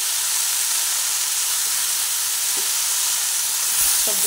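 Vegetables tipped one by one into hot oil in a pan, right after frying potatoes and broad beans, send up a steady, even sizzle and hiss that holds for the whole stretch with no one speaking.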